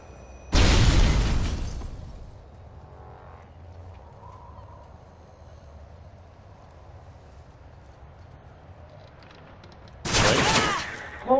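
In a competitive Search and Destroy match of a shooter video game, a thrown Semtex grenade sets off a loud, sharp blast that rumbles away, and a second heavy burst of gunfire or explosion follows about ten seconds later.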